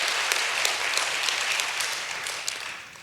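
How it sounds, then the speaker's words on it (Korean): A church congregation at a late-night worship service claps together in a steady, even wash of applause, moderately distant, fading slightly toward the end with no talk over it. "다시 한번 박수 한번 쳐보세요"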